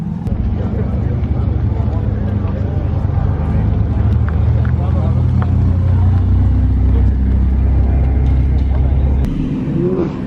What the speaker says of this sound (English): It's the first time hearing a C8 with an exhaust.